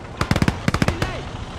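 Gunfire in the World War II video game Call to Arms Gates of Hell: Ostfront, two quick volleys of sharp rapid shots, the second following a short pause, fairly close with a faint voice in the background.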